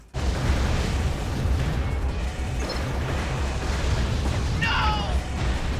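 Explosions from the mecha game Armored Core: The Third Generation roar loudly and continuously, a thick rumbling blast with a brief whistling burst near the end, with speech heard over it.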